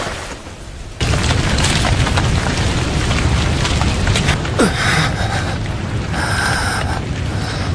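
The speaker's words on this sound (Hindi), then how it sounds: "Fire style dragon flame jutsu." A fire style dragon flame jutsu in a Naruto Shippuden fight erupts as a sudden loud roaring blast that fills the scene and holds as a sustained dense rumble with crackling bursts near the end.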